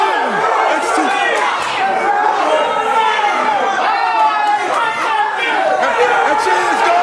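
Wrestling crowd at a BPW Futures championship match reacting loudly to a slap, a sustained roar of shouting and jeering voices that stays dense and near throughout.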